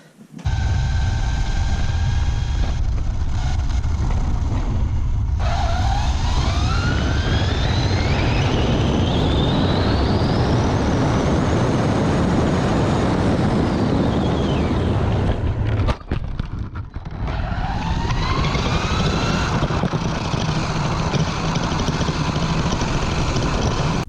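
Arrma Limitless RC car with an SSS 4082 1600 kV motor on 8S, screaming at high speed with a rising electric whine that swoops up and fades, then comes back for a second pass. It is loud and continuous over steady wind and road roar.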